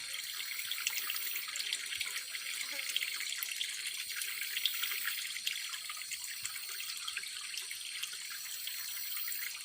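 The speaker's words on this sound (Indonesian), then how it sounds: "Ini proses pengambilan air kalau di hutan seperti ini." Spring water in a forest running steadily as it is collected, a continuous close trickling and splashing with a bright hiss and no talking.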